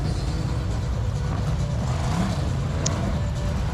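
BriSCA stock cars circling a damp track at a World Championship Final, a continuous low engine drone that stays steady and fairly distant, with no voices.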